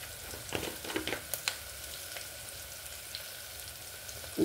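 Onions softly sizzling and frying in a pan for a Telugu sorakaya tomato curry, a faint steady crackle with a few brief stirring clicks, no voices.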